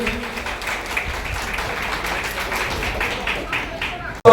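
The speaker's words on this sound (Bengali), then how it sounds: "সবাইকে হাততালি দিয়ে অনুরোধ অনুরোধ রাখছি" Applause from the crowd at an award ceremony, a dense wash of clapping running steadily for about four seconds before a loud burst cuts in at the end.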